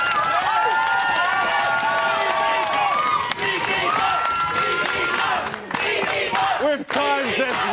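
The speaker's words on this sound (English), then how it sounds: "give yourselves a round of applause" A Celebrity Big Brother studio audience cheers and claps in a loud, dense crowd roar that carries on throughout, with shouting voices mixed in.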